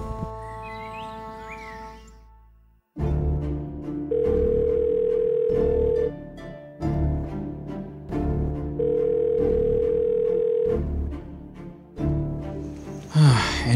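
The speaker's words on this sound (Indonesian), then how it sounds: "Ditelepon-telepon gak diangkat-angkat lagi." Phone call ringing unanswered: repeated electronic ringback tones in steady bursts, loud and close, with short pauses between rings and a brief sound at the end.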